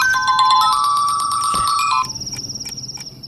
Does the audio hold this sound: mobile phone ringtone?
yes